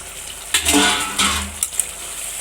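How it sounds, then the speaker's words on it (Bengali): Lid lifted off a pot of doi potol curry: a few close metallic clinks and scrapes with a brief steamy hiss, then a quieter tap near the end. "আমি এখন ঢাকাটা নামিয়ে দিই"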